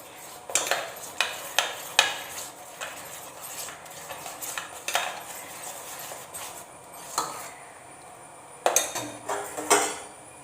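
A spoon works Oreo cake batter in a bowl, giving irregular sharp clinks and taps against the rim in short clusters with quiet gaps between them, close and fairly clear.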